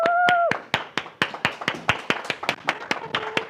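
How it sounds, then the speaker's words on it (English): Short bursts of clapping from a small audience, about a dozen sharp hand claps in an uneven rhythm, fairly close, greeting Marlene Gutierrez at an evening business gathering; a brief whoop opens the clapping. "give a round of applause to Marlene Gutierrez, please"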